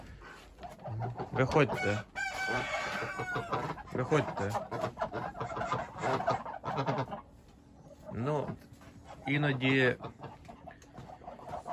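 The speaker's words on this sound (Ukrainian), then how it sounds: "зараз випустимо качок" Farm ducks being let out of their shed on an autumn morning quack and call in scattered bursts up close, while a person talks and calls to them over the birds.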